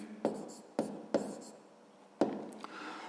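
Pen writing the answer to a fifth-grade math exercise on paper: a few short, close scratchy strokes with taps, spaced irregularly and quiet.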